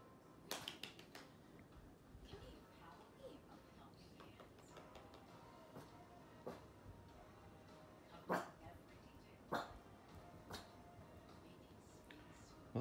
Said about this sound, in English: I guess a shallow bark's better than a loud bark